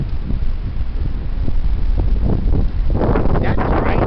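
Heavy wind blowing outdoors near falling twigs, a steady loud roar buffeting the microphone, gusting stronger and rougher toward the end.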